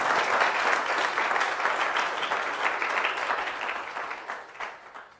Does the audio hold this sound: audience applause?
yes